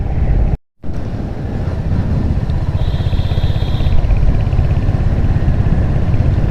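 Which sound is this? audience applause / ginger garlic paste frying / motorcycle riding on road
motorcycle riding on road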